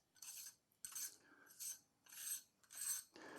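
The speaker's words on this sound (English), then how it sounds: "you'll see underneath that there is a lugged inner ring. This is called the front ring in the instructions. And at the moment, it's all put together. So we have to unscrew it like this" Lugged inner front ring of a LEE Filters SW150 filter holder being unscrewed by hand, five short rasping scrapes in a steady rhythm with brief pauses between, close up and quiet.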